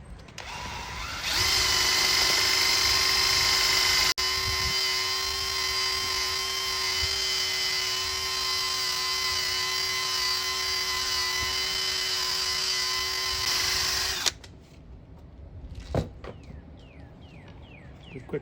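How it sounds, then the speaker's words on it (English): A power tool whines steadily while polishing the rim of a 1962 Triumph TR4 wheel, a loud high-pitched drone that holds for about thirteen seconds, then cuts off and leaves faint handling noises. "And we'll start to polish this section in here."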